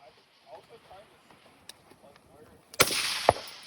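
A gas gun fires at an outdoor shooting range, one sharp loud report followed by a burst of rushing noise and a second crack, after quiet talk and faint sounds.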